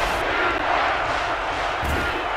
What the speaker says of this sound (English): The crowd is really letting them hear it.